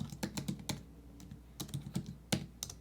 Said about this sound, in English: I'm going to go back to apps. And I'm going to type in vectorize.